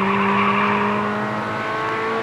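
A race car pulls hard out of a corner on the Las Vegas road course, its engine note loud and close and holding a steady high drone under full throttle, with a faint squeal of tyres.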